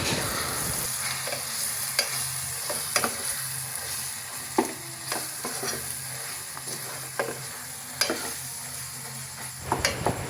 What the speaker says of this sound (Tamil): மிக்ஸ் கொச்சி கொத்தில் அதில் ஒரு 4 கரண்டி அளவு நாங்கள் அதில் போட்டு அதையும் ஃப்ரை பண்ணி எடுக்க போகிறோம்